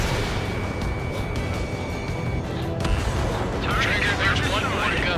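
Missile launch in the Ace Combat 7 flight game, a rushing burst that swells near the end over a steady jet and combat din, with radio chatter running throughout.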